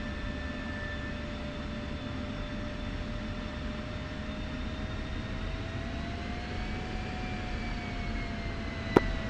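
F-16C fighter jets rolling for takeoff on a runway in the DCS flight simulator, a steady droning jet engine whine with a slowly shifting tone, a sharp click near the end, no voices.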